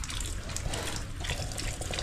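Water runs steadily in a continuous splashing stream, close by, with no voices.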